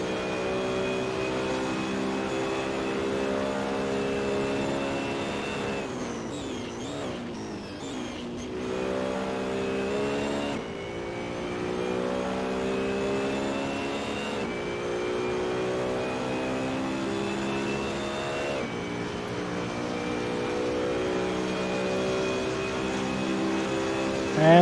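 Race cars in a video game lap Monza on the final straight toward Parabolica, engines droning loud and steady with high whining harmonics, pitch dropping sharply on downshifts and climbing again through repeated upshifts, with no talk over it.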